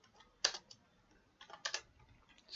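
Bursts of keyboard typing on a computer keyboard while code is entered, with quick clusters of clicks, a pause, then more keystrokes; faint and close, with no voice.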